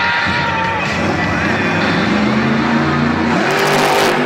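Monster truck engine roaring and revving loudly through a sky wheelie at a Monster Jam stadium show in Pittsburgh, with a large crowd cheering and shouting underneath the engine the whole time.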